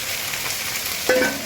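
Dried fish and tomato fry in hot oil with a steady, moderately loud hiss and crackle, and a brief clink of a utensil near the end.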